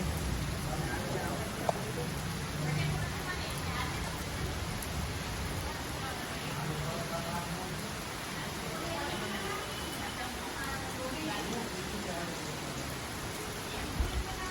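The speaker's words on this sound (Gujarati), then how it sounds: "એટલે વરસાદ ચાલુ છે" Steady rain falls throughout, a dense hiss of drops with a few louder taps, a voice speaking faintly underneath.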